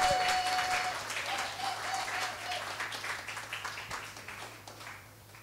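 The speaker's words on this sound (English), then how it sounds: "Ladies and gentlemen, a hand of applause for Dai Lee." A crowd of audience members applauds at a community gathering for an independent MP in Sydney, steady clapping that gradually thins out, with faint background voices beneath.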